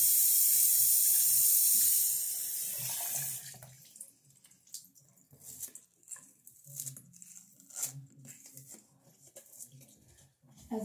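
Hot tap water runs in a steady hiss for a few seconds, then shuts off, leaving quieter scattered handling sounds nearby.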